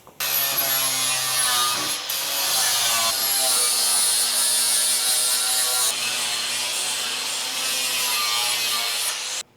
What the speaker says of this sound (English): So I'll sand some off that and then we'll see where we are.